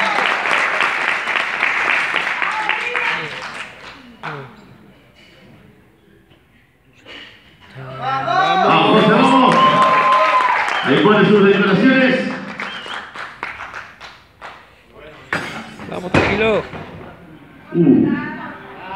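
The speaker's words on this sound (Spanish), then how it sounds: "Aplausos para él, vamos." Audience applause and cheering at a flair bartending championship in Manizales, arriving in loud bursts between stretches of an announcer speaking over the venue, with shouts and scattered claps near the end.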